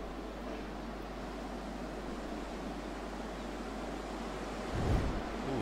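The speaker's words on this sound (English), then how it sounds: "Ooh, it's getting too windy." Steady howling wind sweeps across an open landscape in a survival video game, a continuous broadband rush with a brief louder gust near the end, no voices.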